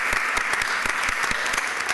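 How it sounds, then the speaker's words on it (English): Audience at a high school graduation ceremony breaks into steady applause, dense overlapping claps filling the hall at an even, fairly loud level with no talking over it. "Please, let's give everybody applause."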